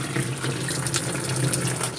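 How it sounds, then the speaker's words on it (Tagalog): A tap runs steadily with a strong, continuous rush of water into a sink, loud and close with no talking over it. "Tingnan natin dito kung lumalabas ba yung tubig."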